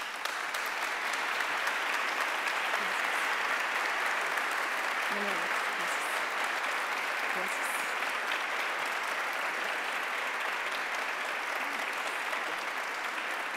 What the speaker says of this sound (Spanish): Y con este fuerte aplauso agradecemos a la maestra Denise Dresser por acompañarnos en este encuentro nacional anticorrupción.